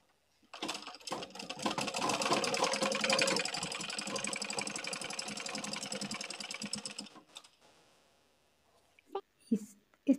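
A sewing machine stitches folded fabric for a newborn baby cap, a steady rapid mechanical whir running for several seconds before stopping, followed by a few soft handling clicks.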